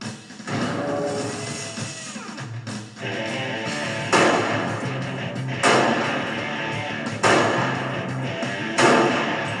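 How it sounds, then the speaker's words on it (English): A Les Baer .308 semi-automatic rifle fires a few loud, widely spaced shots, each a sharp crack with a ringing tail, set against outdoor background noise. "The proof is in the shooting, and Les' new 308 semi-auto is performing to the guarantee, 1/2 MOA"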